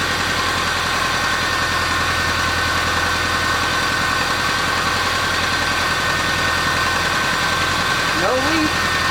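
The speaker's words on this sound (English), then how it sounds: "The engine is no longer shaking." A repaired car engine idles steadily after a fix, its low mechanical hum loud and unbroken throughout, with a brief voice-like chirp near the end.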